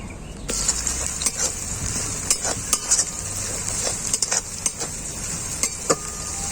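Ginger-garlic paste and chopped green chilli frying with browned onions for ghugni, a loud bright sizzle starting abruptly and running throughout, broken by repeated clinks and scrapes of a spatula stirring the pan.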